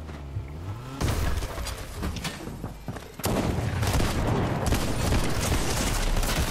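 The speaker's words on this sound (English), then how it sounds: "Wow, we missed every single shot." Gunfire in Fortnite: dense bursts of rapid shots and booming blasts fire almost without pause, loud and close, with a short lull before the shooting resumes even heavier.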